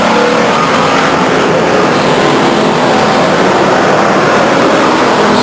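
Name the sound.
race cars at Stockton 99 Speedway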